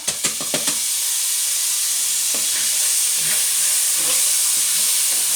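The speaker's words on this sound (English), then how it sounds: "And I'm going to throw in my onion now." Chopped onion hits hot oil in a pan while cooking Mexican rice, a loud, steady, close hiss of sizzling that follows a few quick clatters at the start and carries on unbroken without talk.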